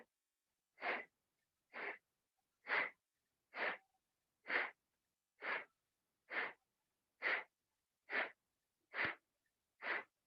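Eleven sharp, forceful exhales through the nose repeat in a steady rhythm about once a second during a snapping abdominal breathing exercise, close and clear with silence between each breath.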